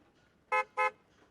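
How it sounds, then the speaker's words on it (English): Two short, loud car horn honks in quick succession, each about a quarter second, over a quiet background in the visual novel Steins;Gate Elite. "A car honks its horn."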